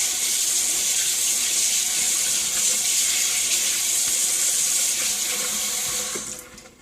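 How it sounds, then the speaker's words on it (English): Tap water pouring steadily as soapy hands are rinsed at a sink, a loud close hiss of running water that holds level and then fades as the flow is shut off near the end. "wash your hands with a mild soap for about 1 full minute. Then you're going to rinse."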